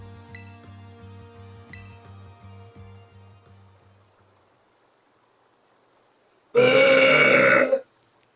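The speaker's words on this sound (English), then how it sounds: "Big burp." One loud, drawn-out belch of a bit over a second rings out alone and close, after some soft tonal game music fades into silence.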